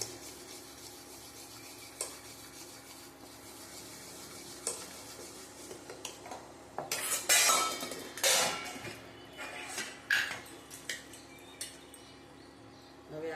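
Spoon scraping and clinking in a bowl of fermented corn dhokla batter, steady stirring strokes close by, with a louder cluster of knocks and scrapes near the middle.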